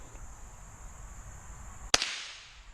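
A single crisp shot from a Henry .22 classic lever action rifle fired outdoors at bottles stuck in mud, a sharp close crack after quiet ambience with a steady insect whine, then a short decaying tail.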